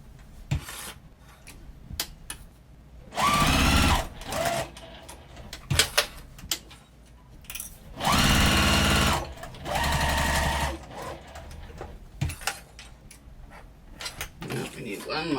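Sewing machine stitching fabric for a beginner Christmas tree project, heard in several loud, steady bursts of motor whir separated by pauses filled with small clicks and handling sounds.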